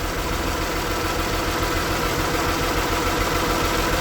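A 2008 Mazda CX-9 engine idles steadily up close during misfire diagnosis, a constant broadband hum with low mechanical rumble and no talking.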